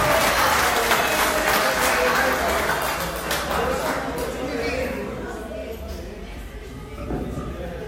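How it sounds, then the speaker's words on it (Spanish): An audience at a motorsport championship awards ceremony applauds, a dense wash of clapping close and loud that slowly thins and fades over several seconds. "nuevamente un fuerte aplauso"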